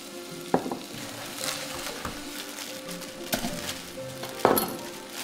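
Onions sizzle in butter and oil in a pan, a steady close frying hiss with a few sharp clinks and scrapes of a utensil against the pan, and no voices.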